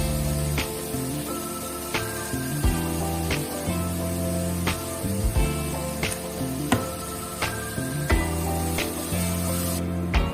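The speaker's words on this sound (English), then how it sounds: "the first things you want to do is throw the onions in the pan" Onions fry in butter in a pan for palak paneer in a travel kitchen: a steady, close sizzling hiss runs throughout, with occasional clicks and scrapes from the pan and a low background hum.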